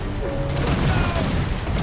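Ship cannons firing in the game Risen 3: Titan Lords make booming, rumbling blasts that merge into a continuous heavy roar, loud and close.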